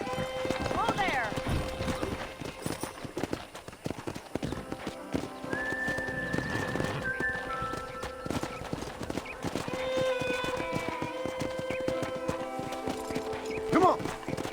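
Wild horses in Red Dead Redemption thunder past in a steady clip-clop of hooves, with a brief whinny, layered over game ambience and a voice talking throughout.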